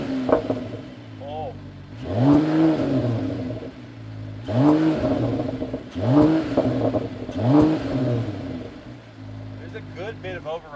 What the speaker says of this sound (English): Now, I'm going to go to Sport Plus drive mode. You hear the tone change? And now I'll rev it big.